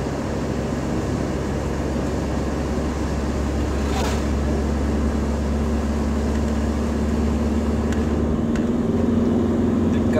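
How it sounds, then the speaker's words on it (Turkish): A diesel car engine in third gear pulls steadily under throttle while climbing a steep ramp, a loud, continuous low drone heard from inside the cabin, with the pitch shifting slightly near the end. "Gaza yükleniyorum. Üçüncü vites ve ayağımı debriyajdan çektim."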